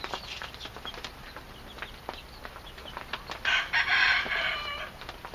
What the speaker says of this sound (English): I love hearing that crowing.